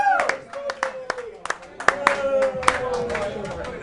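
Patrons in a Pittsburgh sports bar clap in a loud, close burst of scattered handclaps, with cheering voices and chatter mixed in throughout.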